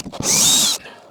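A power drill bores a hole during an electrical installation in a storage cabin, a single loud high-pitched whine lasting about half a second, close by and alone, then cutting off abruptly.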